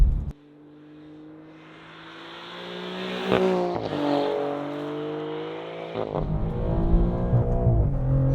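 A 2025 Maserati GranTurismo Trofeo engine revving hard on a track, heard from inside the cabin, pitch climbing through gears with loud roaring shifts, steady and close.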